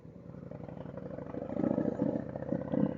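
A single motorcycle on a group ride in open country passes nearby, its engine droning steadily and swelling slightly as it goes by, heard alone without voices.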